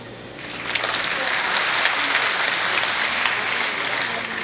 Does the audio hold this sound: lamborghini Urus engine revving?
no